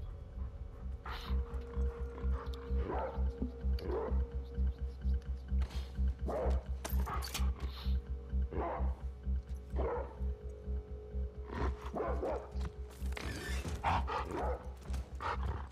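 A dog barking in The Last of Us Part II video game, with repeated sharp barks at irregular intervals over a steady low mechanical hum and clicking game sounds.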